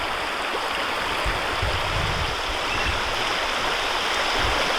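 Stream water rushes steadily through a gold sluice box, a close, constant broadband wash with low gurgling surges and no voices.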